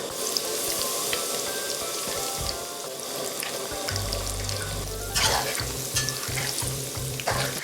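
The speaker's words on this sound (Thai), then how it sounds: "พอน้ำมันร้อนได้ที่นะคะ เราก็ใส่ทั้งเผือกทั้งมันที่เราเตรียมไว้นี่ค่ะลงมาทอดเลย" Taro and sweet potato pieces frying in hot oil, a dense continuous bubbling sizzle with stirring scrapes and a low rumbling clatter partway through, close and steady.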